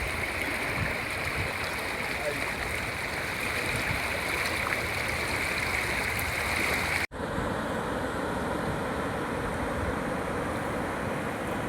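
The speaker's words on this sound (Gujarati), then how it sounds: "પાણી આવ્યું છે અને ખેતરો ધોઈ નાખ્યા" Floodwater rushes across farm fields in Mandvi village, Gariadhar taluka, Bhavnagar district, after 6 to 7 inches of rain, a steady broad roar of flowing water heard nearby, briefly cut by an abrupt break partway through.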